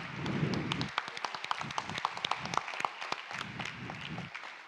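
Scattered applause from a conference audience after a corporate dance performance, individual claps standing out sharply over a soft crowd wash, fairly quiet and irregular, with no talk in between.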